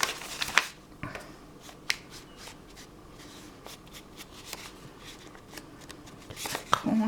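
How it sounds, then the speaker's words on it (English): Weeds being pulled from a vegetable patch, with scattered rustling, tearing and crunching bursts of soil and foliage at close range. The sounds come in irregular clusters and are fairly quiet. "Now I just have to pull all the weeds out of my veggie patch"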